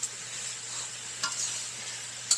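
Steady, soft sizzling of pork belly frying in a pan, a constant crackly hiss with a couple of brief louder pops.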